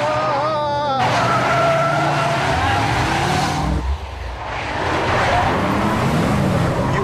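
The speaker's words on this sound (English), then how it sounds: "please stop the car, or at least slow down" A car drives hard with tyres skidding and engine noise filling most of the stretch, while people talk over it.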